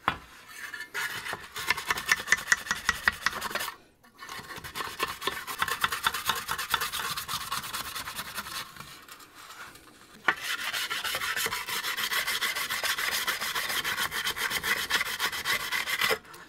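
Rust being scrubbed off vintage Fender Jazzmaster metal hardware with a wire brush, in steady rasping strokes up close, with two short pauses and a coarser brush taking over at the end.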